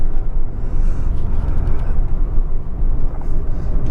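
A 1987 Ford Telstar TX5 Turbo that had sat unused for five years drives along, giving a steady, loud low engine and road rumble heard from inside the cabin with no talk over it.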